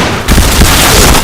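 A grenade goes off in a first-person shooter game, one loud, close, broadband blast that booms and then roars on for about a second.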